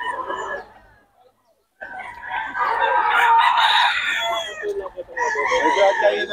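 Rooster crowing at a gamefowl market in Bocaue, loud and close, a long crow after a brief pause, with more crowing and clucking from other fowl around it and someone speaking Filipino nearby.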